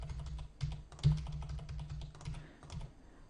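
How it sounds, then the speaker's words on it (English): Registration data being typed on a computer keyboard, a quick run of close, soft key clicks in an uneven rhythm with a couple of louder taps. "let's go ahead and just type in some registration data"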